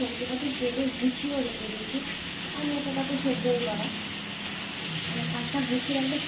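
Pabda fish frying in a pan gives a steady sizzle and hiss under someone talking throughout.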